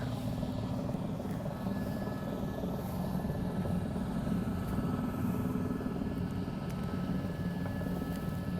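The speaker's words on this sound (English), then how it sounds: "one of our helicopters flying in to take a look" A helicopter flies in over a wildfire area of lodgepole pine near the Gorge Creek trailhead. Its steady, moderately loud rotor drone continues unbroken throughout, with no voices.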